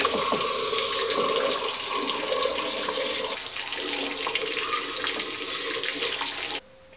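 Water rushes steadily from a hose pipe into the cooling system of a Ford Transit van, a loud, close, continuous hiss and splash that cuts off abruptly at the end, with no talk.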